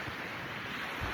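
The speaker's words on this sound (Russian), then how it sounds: "Вот он, океан, безграничный" Atlantic Ocean surf at a Miami beach, a steady broadband wash of waves with wind rushing over the microphone, continuous and fairly loud throughout with no talking.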